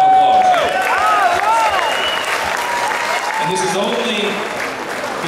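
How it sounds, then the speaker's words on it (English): Steady applause from a large crowd fills the whole stretch, loud and close, with a few whistles and cheers and a brief voice underneath. "So give yourself a round of applause."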